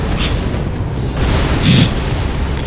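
A grenade explosion in the video game Halo 2, a loud booming blast with crackling debris over constant game noise, the burst swelling briefly near the end.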